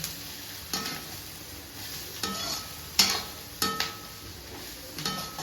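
Spices frying with red chili in a pan, stirred with a utensil: a quiet sizzle runs underneath while a handful of distinct scrapes and metallic clinks land at irregular intervals, close and fairly soft.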